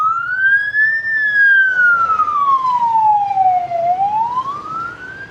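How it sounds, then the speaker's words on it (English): A wailing ambulance siren on a road in Cordova, Cebu, heard from a motorbike, loud and close, its tone sweeping up, falling slowly and rising again as it passes. "Look, ambulance coming, nobody stops,"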